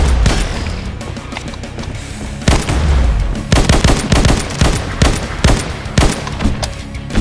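Rapid bursts of automatic gunfire and single shots from a first-person shooter game, Slendytubbies: The Devil Among Us, loud and close, with repeated volleys and short pauses between them.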